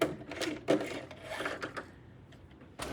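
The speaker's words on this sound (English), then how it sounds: "lift that presser foot, and remember we're just going to do a straight stitch all the way across" A sewing machine runs a straight stitch and a back stitch on a knotted headband, heard close up as short bursts of rapid mechanical clatter with brief pauses between them.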